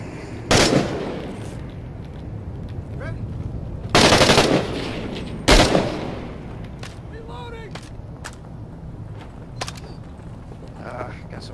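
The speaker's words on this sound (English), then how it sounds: "Dude, firefight galore." Bursts of gunfire in a Six Days video game firefight, with three loud volleys near the start and middle and sharper scattered single shots later, all over a steady low battle rumble, with voices talking in the background.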